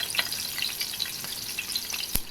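Prawns fry in hot oil for a spicy pepper prawn fry, a close, crackling sizzle dotted with sharp pops and spits, ending with one distinct loud crack.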